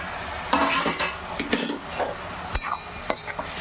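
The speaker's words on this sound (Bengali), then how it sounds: "ঢাকাটা আমি এখন খুলে নিচ্ছি" A metal lid lifted off a pot of cooking mustard greens, with several sharp clanks and clinks of metal on metal over a faint simmer, close by.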